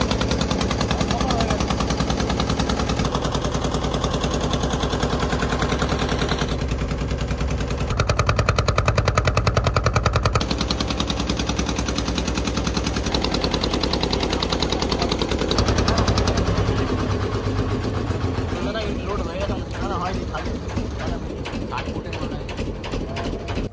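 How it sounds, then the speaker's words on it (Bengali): A motor boat's engine clatters loudly and continuously as the boat departs, a rapid close-up mechanical chatter that shifts in tone and intensity throughout. "নৌকা ছেড়ে দিল।"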